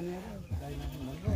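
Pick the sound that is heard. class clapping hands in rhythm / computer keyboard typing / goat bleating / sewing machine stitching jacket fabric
goat bleating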